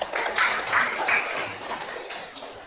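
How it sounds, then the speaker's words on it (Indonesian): Classroom applause, a short burst of scattered hand clapping from students that rises in a few quick waves and then tapers off, fairly close and without talk. "kasih tepuk tangan"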